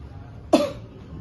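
A single short cough from a child, sharp and close, rises above a quiet background.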